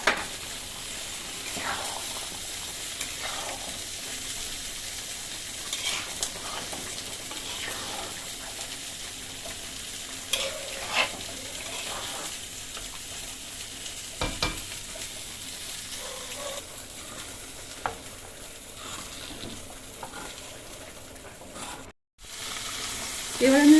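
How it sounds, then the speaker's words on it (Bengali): Fried potatoes and meat are stirred in a hot pan for a long stretch, giving a steady sizzle broken by scattered scrapes of a spatula, with a short drop near the end and no talking. "মাংস ভেজে রাখা আলুগুলো দিয়ে দিলাম। ভালো করে মিশিয়ে নেব এবার আলুগুলো।"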